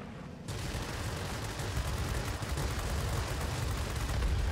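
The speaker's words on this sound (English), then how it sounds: "Look what it did to that heavy fighter, folks. That is sweet, those cannons." Rapid cannon fire from a German Blohm und Voss BV P.203 heavy fighter in World of Warplanes, a dense, continuous roar of gunfire that begins abruptly after a short pause and holds steady and loud.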